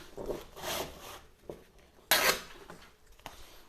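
Sanding a mesquite bowl on a lathe with 120 grit paper, bursts of scratchy abrasive rubbing with brief pauses and one sharper scrape, close and fairly quiet.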